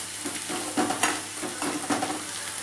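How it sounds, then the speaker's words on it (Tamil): Pirandai (adamant creeper) sautéing in oil in a pan gives a steady close sizzle, with a few soft scrapes from stirring and no talking. "இந்த எண்ணெயிலேயே நல்லா வதங்கிடுச்சு."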